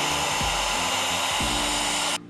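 Pet blower drying a wet corgi's fur after a bath, a loud continuous whirring roar with shifting motor tones that cuts off sharply near the end.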